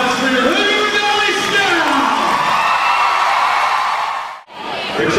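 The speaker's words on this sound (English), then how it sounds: "another round of applause for your Hood Rebellion" Loud crowd at a school air guitar show whooping, yelling and cheering in a dense sustained burst that tapers off and briefly cuts out near the end.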